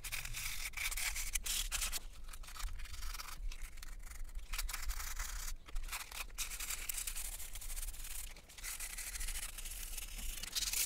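A Wii circuit board being sanded by hand with 320 grit sandpaper, a continuous close scratchy rubbing with steady back-and-forth strokes and a couple of brief gaps.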